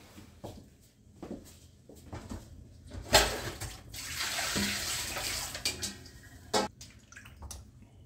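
Water sloshing and splashing in a basin as fish are washed and rinsed by hand, with intermittent swishes and a louder burst of splashing mid-clip, close and without talk.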